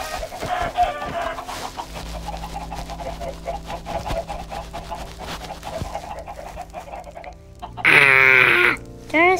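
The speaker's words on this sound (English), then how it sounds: "Did I just spawn chickens outside?" Chickens in the Minecraft video game cluck over and over in the Nether, with a steady run of game clucks and a louder, brighter burst of cackling near the end.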